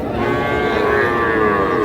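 Young calves at a rural cattle market in Ambari, Dinajpur, giving a loud, close, drawn-out moo that holds steady for its full length.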